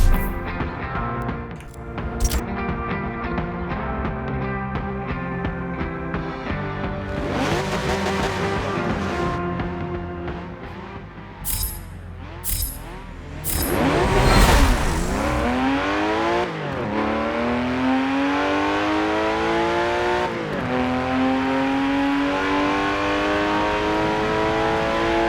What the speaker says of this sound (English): So here we go, 1973 Porsche 911 Carrera RS.